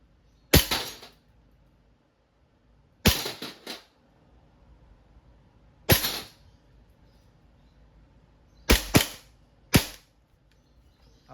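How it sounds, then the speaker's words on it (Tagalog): WE airsoft Glock 35 Gen 4 pistol in all black, fired semi-automatic: five sharp, loud cracks spaced irregularly over about eleven seconds, each with a short rattling tail, two of them close together near the end. "Testing po sir, Glock 35 4 series, all black, semi-auto muna."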